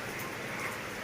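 Heavy rain pours down as a faint, steady, even hiss with no breaks.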